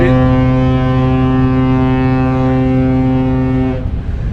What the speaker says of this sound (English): I guess that's why it's called a foghorn, to let people surrounding area the ship be aware of our existence.